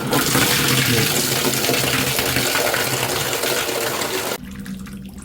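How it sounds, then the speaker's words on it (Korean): Water pours steadily from a Kiturami boiler's heating filter housing into a washbasin on the floor, a dense continuous splashing that drops off slightly near the end. "물이 이렇게 떨어지기 때문에 저희는 바닥에 네, 이렇게 세수대야를 놓고 물을 받아줬습니다"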